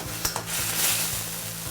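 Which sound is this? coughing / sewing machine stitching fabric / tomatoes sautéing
tomatoes sautéing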